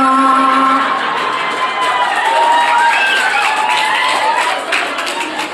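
A crowd at an Isra Mi'raj religious gathering in Parung, Bogor, breaks into loud clapping and cheering, with shouts and whoops rising over the steady applause before it tapers slightly at the end.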